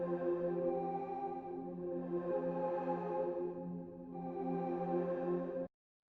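A soft, sustained synth pad with a wavering, shimmering chorus texture, slowly swelling and dipping before stopping suddenly.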